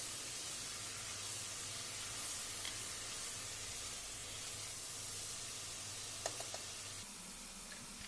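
Mutton frying with onions in a pan gives a steady, even hiss of sizzling oil with a few brief ticks of utensil contact near the end, no talking.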